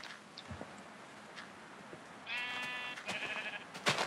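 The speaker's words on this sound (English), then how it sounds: "Look at all the sheep, they're all around." Several sheep bleat in Minecraft, with harmonic cries from about the midpoint onward that come close together and sound fairly near. Small game sounds and brief clicks surround them, and nobody speaks.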